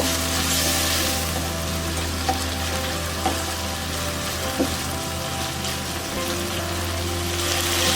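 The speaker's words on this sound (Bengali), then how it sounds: "এভাবে আমি 2 থেকে 3 মিনিট চিকেনটা ভেজে নেব।" Chicken sizzling steadily in a pan with ginger garlic paste, a constant close frying crackle with a few small pops and no voices.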